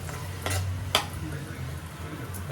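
Tomatoes sauté in a pan with ginger garlic paste for a squid gravy: a soft, low sizzle runs beneath two or three scraping strokes of a spoon against the pan, with no voices.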